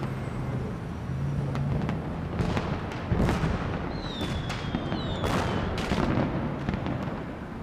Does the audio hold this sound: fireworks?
yes